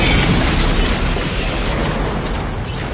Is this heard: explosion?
yes